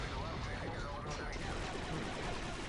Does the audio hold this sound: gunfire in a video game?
yes